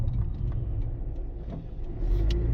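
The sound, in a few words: Dodge Charger Hellcat car driving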